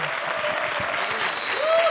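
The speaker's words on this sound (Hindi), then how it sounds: "जोरदार तालियां" Studio audience at a comedy show claps in a sustained, even burst, with faint tonal stage sounds running underneath the applause.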